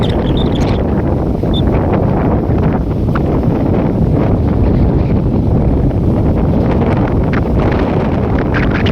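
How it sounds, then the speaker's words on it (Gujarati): Heavy, constant wind buffeting the microphone beside farm fields on a village road, a dense low roar and rumble that fills the whole recording without letup. "પવન એટલો હોય ને તમને મારો અવાજ જ નહીં સંભળાતો હોય."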